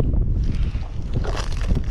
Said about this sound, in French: Oh, ça décoiffe le vent.